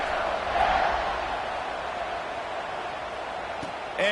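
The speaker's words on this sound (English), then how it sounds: "this crowd is buzzing after that last score" A football stadium crowd buzzes after a score: a steady, broad roar of many voices, even and sustained throughout, with no single voice standing out.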